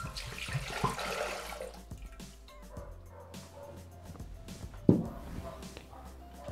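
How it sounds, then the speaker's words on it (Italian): Water poured into a Thermomix TM6 bowl for a potato and zucchini ring cake recipe, a steady splashing stream near the start, with a dog barking sharply nearby. "Iniziamo la ricetta versando all'interno del boccale l'acqua."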